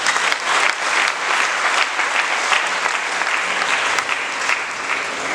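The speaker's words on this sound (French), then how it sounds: "Acclamons pour Jésus." A church congregation at a Saint Jean Bosco parish anniversary celebration in Pointe-Noire claps loudly for Jesus, giving dense, steady applause that fills the room for several seconds.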